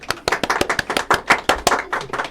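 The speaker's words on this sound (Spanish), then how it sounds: "Un aplauso al público presente" Applause from a crowd, with sharp, uneven claps ringing out steadily for a couple of seconds, fairly close and loud.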